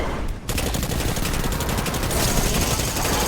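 Rapid automatic gunfire in the video game Destiny 2, a loud, sustained stream of shots with a slight pause early on, dense and continuous throughout.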